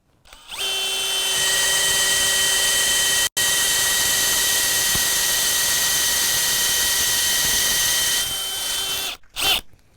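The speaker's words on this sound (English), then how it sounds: "let's just try level 1 on some drill action" A DeWalt XR 3-speed hammer drill runs at speed level 1 in one loud, steady whine for about eight seconds, with a brief break before it winds down and stops.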